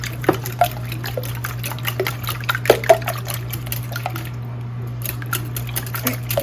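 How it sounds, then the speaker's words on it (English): Eggs being whisked in a bowl during meal prep, a quick series of light clicks and taps over a steady low hum, pausing briefly before resuming, with no talking. "get these whisked"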